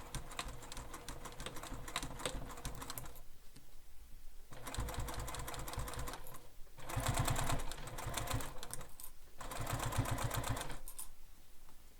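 A sewing machine stitching a beach bag runs in steady rapid bursts, close and clear, stopping and starting several times with brief quiet gaps between runs.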